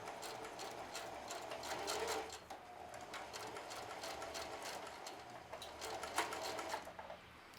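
A sewing machine stitches a jeans pocket in a steady, continuous run with brief pauses and restarts, close by and fairly quiet, with no talk.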